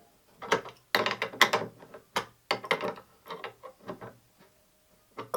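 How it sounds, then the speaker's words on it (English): A metal lock nut is tightened against another nut on a threaded bolt of a wooden cornhole board, giving a series of close, uneven ratcheting and clicking bursts with short pauses between them. "you just take another nut and then tighten it against the other one"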